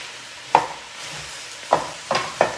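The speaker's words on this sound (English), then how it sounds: "I'm just kind of moving the onions around a little so that they're not just sitting on the bottom so that they don't burn up" Chopped onions frying in oil are stirred around the pan, giving four distinct scraping strokes over a soft, steady sizzle.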